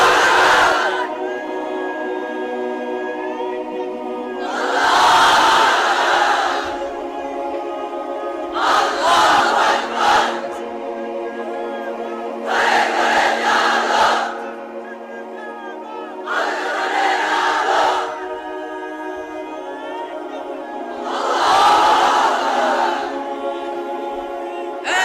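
A large gathering at an Islamic sermon shouts the takbir chant in repeated loud bursts, each swell of many voices rising over a sustained background tone and then fading before the next.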